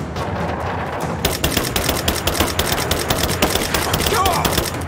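Rapid automatic gunfire in the video game Rise of the Tomb Raider, a dense continuous rattle of shots that starts abruptly and keeps going, loud and close, with the game's combat noise around it.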